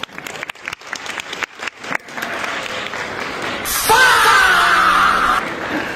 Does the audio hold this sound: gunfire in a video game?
no